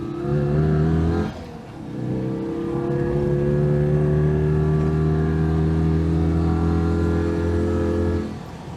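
A modified Citroën 2CV with a 720cc engine revs up to its 6,200 RPM limit and holds a high, buzzy drone for several seconds, close and loud, then drops back off.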